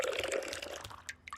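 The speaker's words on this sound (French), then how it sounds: "Le robinet a laissé couler toutes ces gouttes." Water from a leaking faucet dripping into a bucket, faint wet trickling with a few distinct drips near the end.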